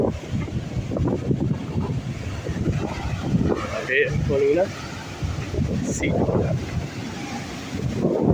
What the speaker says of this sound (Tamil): கடல்.